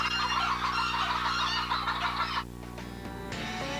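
Chickens at the Grand National Chicken Championship in Stockton, California, with loud, steady honking and clucking fowl calls close by over a constant hum, then a quieter stretch with scattered clatter.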